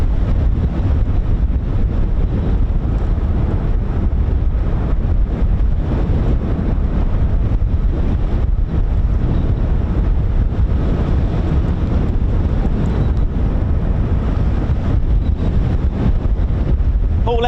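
Loud, constant wind buffeting the microphone near RAF Lakenheath, England, roaring and rumbling without pause, drowning out any other sound.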